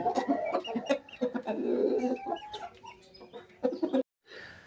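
Chickens with mouth sores clucking close by, a busy run of short, uneven clucks and squawks that stops briefly before the end; no people talking.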